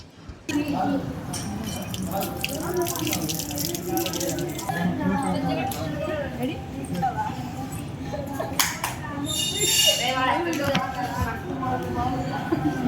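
Water runs and splashes from an unusual tap at a temple, a continuous trickling stream close by, with people talking over it.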